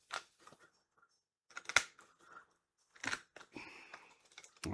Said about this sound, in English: So what I like to do is come in and cut through the jaw.